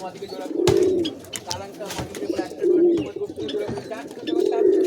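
Pigeon pairs kept in cages and coops indoors coo close by in repeated rolling phrases, each swelling and fading, broken by sharp knocks and rustles.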